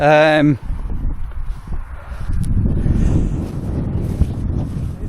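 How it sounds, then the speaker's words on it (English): Gusty southern wind buffeting the microphone in low rumbling surges in open Lincolnshire countryside, with a brief tonal sound at the very start. "In these southern gusts of wind"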